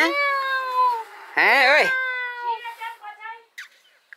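A cat meows several times up close, long drawn-out and rising in pitch, with one harsh louder yowl, while a person talks nearby in a rural home during a cooking and worship gathering.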